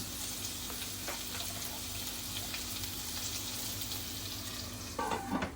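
Stuffed okra frying under a lid in a covered pan, a soft steady sizzle held at low level, with a brief louder clatter near the end.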